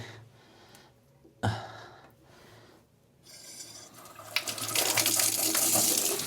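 Water runs from a faucet fitted with a filter, starting as faint trickles and clinks, then swelling into a steady, close hiss of flowing water toward the end.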